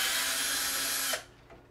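Power screwdriver whirring steadily as it drives a screw into a gaming computer case, loud and close, then cutting off abruptly near the end with a faint click after.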